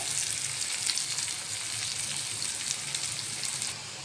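Tender, seeded bitter gourd fries in oil in a pan with a continuous close sizzle and crackle, holding steady and easing slightly toward the end.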